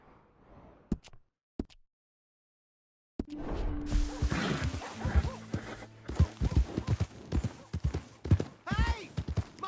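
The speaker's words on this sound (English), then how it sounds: "Hey! My horse!" Horse hooves clip-clopping in the Western video game Red Dead Redemption 2, a sharp short clatter, a silent gap, then a busy stretch of hoofbeats mixed with whooshes and game effects.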